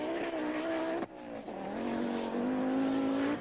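Audi Quattro rally car at speed on a special stage of the 1988 Kuwait International Rally, a loud engine howl that dips on a gear change or lift and then climbs steadily again, close by and alone.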